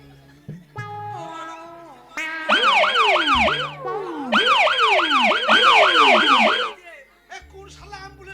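An ambulance siren in a Bengali comic opera scene wails loudly and close in rising and falling sweeps, repeating over several seconds with a brief break, framed by a few short electronic tones.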